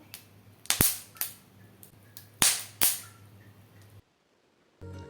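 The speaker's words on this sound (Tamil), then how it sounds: "கொஞ்சம் நேரத்துலேயே கடலை வெடிக்க ஆரம்பித்து நமக்கு சவுண்டு கேட்கும்" Peanuts popping while dry roasting: several sharp, irregular cracks over a faint background hiss, then a brief silence and one more pop.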